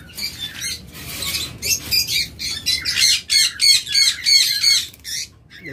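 Several pairs of opaline pet birds call together in an aviary, a busy run of repeated squawking, chirping bursts in a steady rhythm, fairly close and loud, with no talking.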